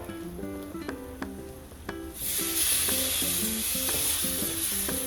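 Soaked tamarind water is poured into a hot pan while making sambar, and a loud, steady sizzle rises abruptly and holds. Lighter clinks and stirring sounds come before the sizzle and continue under it.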